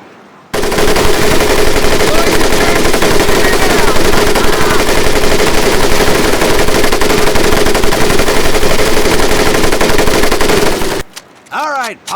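A machine gun fires in the Medal of Honor Pacific Assault video game during the battle of Tarawa Atoll, a loud unbroken burst of rapid gunfire lasting about ten seconds that ends in a few ringing echoes.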